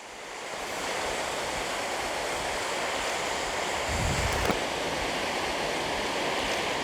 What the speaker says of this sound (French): on va voir l'eau qui cascade sur les rochers